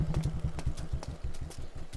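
A Bullet motorcycle engine idles with a steady low thumping rhythm, close and continuous, with a few faint clicks above it.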